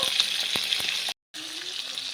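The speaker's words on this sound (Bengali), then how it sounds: "মাছগুলো ভাজার জন্য কড়াইয়ে দিয়ে দিচ্ছি" Large pieces of fish fry in hot oil in a wok, a loud continuous sizzle with a few crackles, broken by a brief silent gap before the sizzling resumes.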